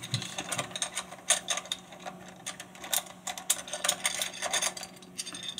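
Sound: loosening two screws on a lens cover

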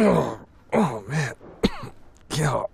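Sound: coughing in video game This Is the Police 2

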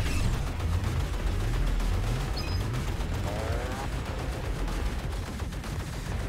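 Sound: cannon weapon firing in video game Assault Android Cactus

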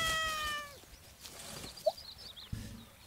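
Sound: cat meowing in video game Garden Simulator

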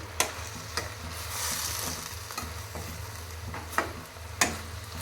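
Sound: stirring carrot and vegetables frying in a pan

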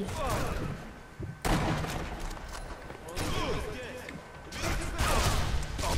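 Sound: gunfire in the video game Sniper Elite V2

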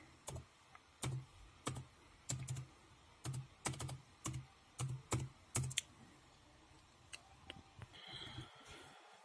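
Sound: typing a password on a computer keyboard

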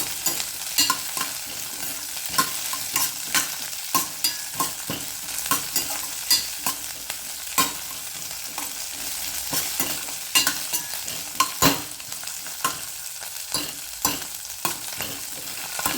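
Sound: green chillies frying and stirred in oil

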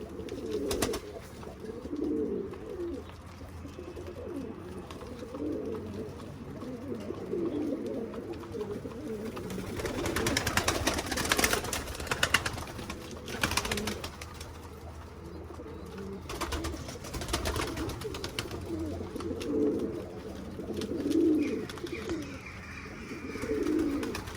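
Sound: pigeons cooing in a coop

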